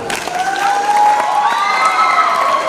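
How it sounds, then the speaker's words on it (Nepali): An audience gives a burst of applause for Vijay at a gathering: steady, dense clapping with crowd noise and a sustained tonal sound over it, lasting about three seconds with no talk. "विजयका लागि जोरदार ताली"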